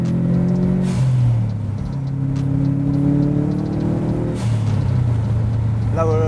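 Subaru Impreza GC8 WRX STI Type R engine pulling hard under acceleration, a loud rising drone with gear changes, while someone talks over it.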